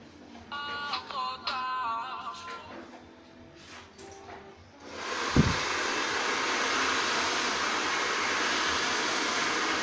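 A salon hair dryer switches on partway through and then blows steadily, a loud, even rushing hiss that holds to the end, following a quieter stretch with faint tones and small handling noises.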